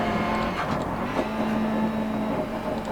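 A rally car in the Dirt Rally video game engine braking, a steady droning engine note that holds and shifts slightly in pitch, loud and close with faint gravel noise.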